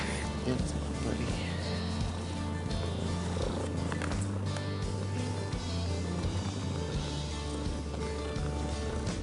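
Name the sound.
cat purring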